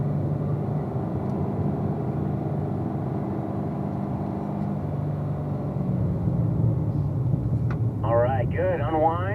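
A race car engine rumbles steadily on track, the drone easing and dropping as the driver lifts off the throttle for a corner; near the end a voice speaks briefly over the engine.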